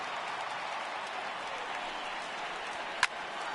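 A stadium crowd of over 39,000 in a baseball video game roars on its feet, a steady broad wash of cheering and applause with one sharp crack near the end, no talk over it.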